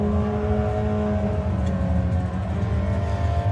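A drag racing car engine at a National Finals event, held hard against its rev limiter, produces a loud, steady, buzzing drone that lasts the whole stretch with no talking over it.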